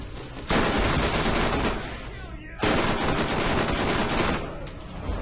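Automatic gun firing in the video game Borderlands: two long, dense bursts of rapid shots, loud and close, separated by a brief lull and cut off at the end.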